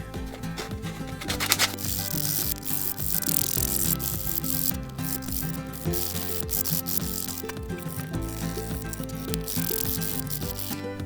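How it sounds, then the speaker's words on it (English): A scrap wood square bill crankbait lure blank is rounded by hand with sandpaper: continuous close rasping and rubbing strokes in an uneven rhythm, with small knocks and rattles, and no speech. "we're going to take some sandpaper and just do the sort of final rounding around the whole thing"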